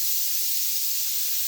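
A pressure cooker of pav bhaji releases steam in a steady, loud, high hiss that carries on without a break, close by and with no talking.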